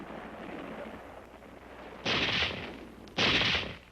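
Archival Pacific War footage carries two heavy bursts of small arms gunfire, each about half a second long and rising sharply out of a low, muffled background rumble.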